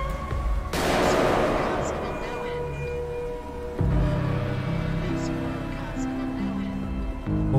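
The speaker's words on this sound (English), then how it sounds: "It was a gunshot." A single gunshot fires in the horror video game Happy's Humble Burger Barn, set in a burger restaurant, a sharp broadband crack around the one-second mark that rings out over a steady humming and droning ambient background, with a second softer thump later.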